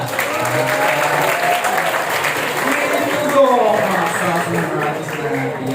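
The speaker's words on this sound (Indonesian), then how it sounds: "Tepuk tangan semuanya." Students clap together in a school hall, a continuous, loud patter of many hands mixed with murmuring voices and chatter throughout.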